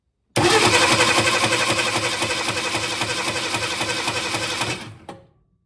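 A 1962 Ford Falcon engine cranks with a rapid, rhythmic starter whir for several seconds, loud and close, then cuts off abruptly with a short trailing rattle and quiet.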